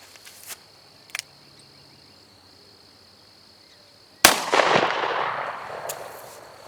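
A Taurus Judge revolver fires a single Winchester 2.5-inch 6.5 shot shell at an outdoor range, one sharp, loud blast followed by a long decaying echo, with insects chirping faintly beforehand.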